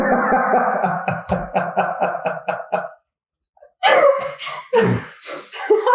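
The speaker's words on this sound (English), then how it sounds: "Goes to grab my hand and sneezes." A sharp, close sneeze bursts out after a quiet pause, following a run of rhythmic breathy sounds; a few scuffling noises trail after it.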